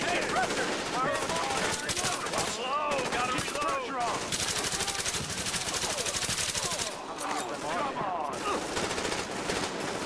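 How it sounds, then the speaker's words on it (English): Sustained automatic gunfire and bursts of shooting from a Tom Clancy's The Division firefight at Grand Central Station, loud and continuous throughout, with voices talking over the battle. "Keep shooting!"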